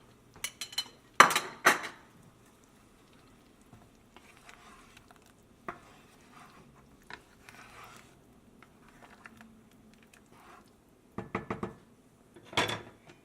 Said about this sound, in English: we're going to add in the meat, which is going to be the turkey neck, the turkey tail, the gizzard, and the heart